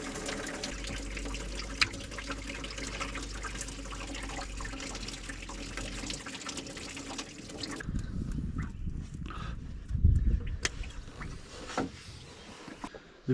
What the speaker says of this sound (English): Now we let the coolant drain, so we can work a bit better without it dripping all on over us.